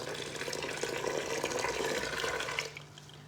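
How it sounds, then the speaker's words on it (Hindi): A glass of cold water is poured into brewing Kashmiri pink tea, a steady rushing, splashing stream that lasts a few seconds and then stops abruptly, leaving a quiet background. "इसी स्टेज पे हम इसमें ठंडा पानी डालेंगे भर के 1 गिलास"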